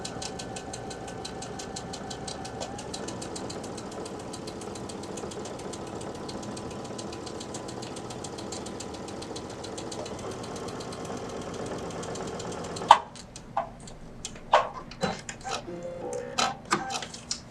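A sewing machine runs steadily while top stitching two pieces of fabric together for a zipper pouch, a fast even needle chatter that stops, followed by scattered clicks and light handling taps.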